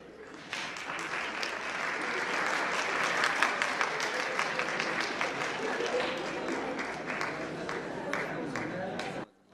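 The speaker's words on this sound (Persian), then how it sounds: "این بود دست زدن، خدا وکیلی." An audience applauds at a theatre thank-you ceremony for cast and crew, a sustained, dense round of clapping from a large crowd that swells in the middle and cuts off abruptly near the end.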